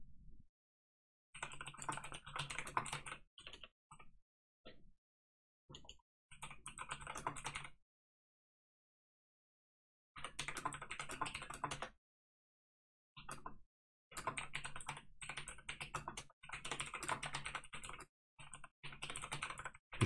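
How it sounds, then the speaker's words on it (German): Computer keyboard typing comes in rapid clattering bursts of keystrokes separated by pauses, close and clear with no talking. "Wie schön ihr nur das Klacken der Tastatur hört"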